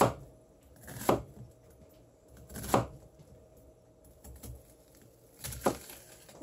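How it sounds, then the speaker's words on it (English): A machete chops through an onion in a home kitchen, three firm separate thuds spaced about two seconds apart, close and fairly quiet, with faint light knocks between them and no talking. "We use machetes to cut up our onions here."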